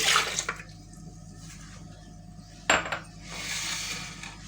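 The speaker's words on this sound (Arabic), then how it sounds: "هنزل بقى معاكم باللبن الاول." Milk pours into chocolate sponge cake batter in a home kitchen, a soft liquid stream near the start and again near the end, broken by a sharp clink of a utensil or bowl, with no voices.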